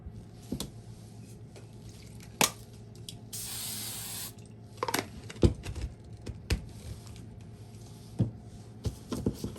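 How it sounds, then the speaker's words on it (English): Firm-hold hairspray is sprayed in one short hissing burst onto the hair of a craft gnome, surrounded by quiet handling clicks and taps. "Now the firm hold hairspray on this will make this stay and not keep falling out."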